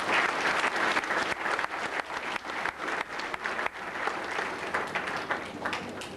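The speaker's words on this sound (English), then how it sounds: "we can still give them a round of applause even though they're not here" A graduation ceremony audience breaks into sustained applause, a dense, lively clatter of many hands that swells and dips slightly without stopping, filling the hall on its own.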